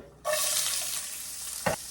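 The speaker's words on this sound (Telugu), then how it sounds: "చిటికెడు జీలకర్ర పోపు వేగిపోయిందండి" Cumin seeds and urad dal sizzle sharply in hot oil for tempering, a loud steady frying hiss that starts abruptly and continues, with a brief clatter near the end.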